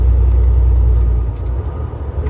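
A heavy truck with a Caterpillar engine rumbles along a winding West Virginia road at about 25 mph, with a loud, steady low engine drone and road noise from inside the cab.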